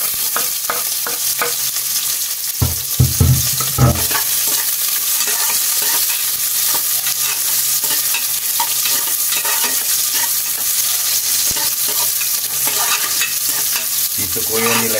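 Garlic and onion stir-frying in a hot pan, a loud steady sizzle running throughout, with a few brief scraping knocks of a utensil near the start and no talking.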